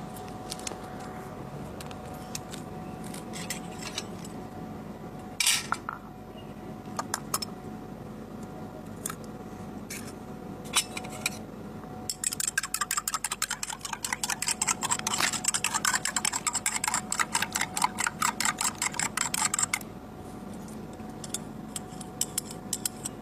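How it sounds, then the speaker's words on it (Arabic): An egg frying in a pan left to heat under strong vertical sunlight outdoors, giving soft, steady crackling and sizzling that grows into a dense run of fine pops midway, with scattered sharp clicks throughout and no talk. "ودلوقتي هبدأ أقلي البيضة"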